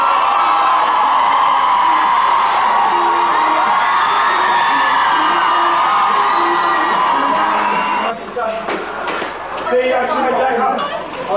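A large crowd of fans at a Westlife appearance screams continuously at deafening volume, a dense wall of high-pitched shrieking that thins slightly near the end as scattered shouts and cheers break through.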